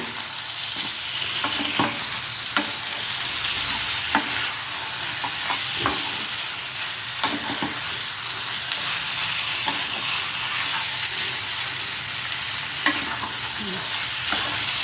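A chicken dish fries in oil in a pan while a spoon stirs and mixes it, producing a steady close sizzle broken by frequent scraping clicks throughout.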